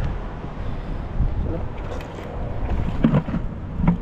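Strong wind on an island shore buffets the microphone in low, rumbling gusts that swell and ease, with faint voices and brief knocks in the background.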